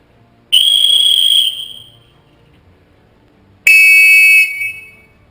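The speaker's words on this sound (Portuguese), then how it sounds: "Então, um apito, por exemplo," A common safety whistle gives two sharp, shrill blasts, each close and loud and lasting about a second, with a brief silent gap between them.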